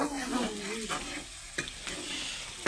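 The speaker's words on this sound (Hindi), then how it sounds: "अभी जो है जी मिसाला भून रही है" Spice masala roasting and being stirred in a pan for a potato curry, with a steady close sizzle and repeated scraping strokes of a spoon against the metal, no one talking.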